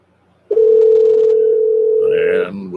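A telephone call tone sounds as one loud, steady, unbroken tone for about two seconds, then cuts off as a voice begins to speak over the line.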